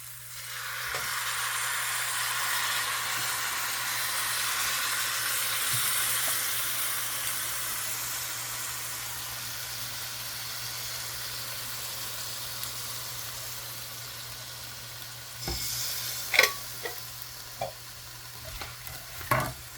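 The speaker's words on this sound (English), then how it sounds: "And I'm going to add the coconut milk to it." Coconut milk is added to a simmering Guyanese seim curry, giving a steady, soft sizzling hiss while it is stirred, with a few light utensil clinks near the end.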